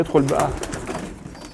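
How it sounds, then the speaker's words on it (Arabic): A pigeon squab in a loft of recently weaned young birds gives soft cooing calls, close by and moderately loud, with a voice talking over part of it. "ادي الزغلول اهو"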